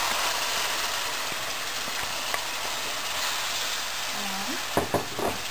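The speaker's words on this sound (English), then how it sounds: "And also I'm going to add this spices paste which I already made before" Spice paste frying and stirred in a pan for South Indian chicken curry with coconut milk, a steady soft sizzle running throughout with a few sharp scrapes and clinks of the spoon near the end.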